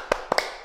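Three quick claps in a Sunday school service, one then a short pause and two close together, sharp and close but light, part of a rhythmic cheer routine.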